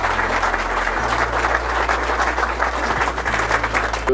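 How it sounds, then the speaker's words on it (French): An audience at a corporate event for a press company breaks into steady applause, a dense, continuous wash of many hands clapping at close range, over a low constant hum. "Vous les applaudissez."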